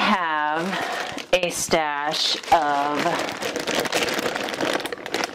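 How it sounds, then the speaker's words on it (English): Sheets of 12 by 12 scrapbook paper crinkle and crackle through the second half with dense rustling, while a woman's speech dominates the opening. "sorry for the crinkle noise,"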